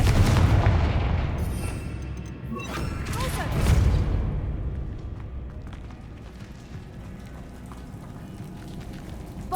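Confringo blasting-spell explosions in the Hogwarts Legacy game: booming bursts near the start and again around four seconds, then a rumbling, crackling tail that fades under steady game ambience.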